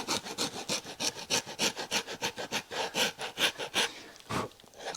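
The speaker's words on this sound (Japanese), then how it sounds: "このヤスリの面を積み上げの一番上のこのラインに当てて削って調整します" A flat file scrapes back and forth across a stacked leather heel on a box calf shoe, in rapid rhythmic close strokes that slow slightly toward the end.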